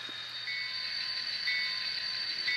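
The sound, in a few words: model Conrail train running around layout loop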